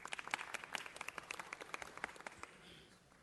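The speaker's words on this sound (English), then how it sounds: "Let's give Marisol a round of applause." At a city council meeting, a small audience claps for Marisol Cervantes, faint scattered hand claps heard fairly distant for about two and a half seconds before dying away.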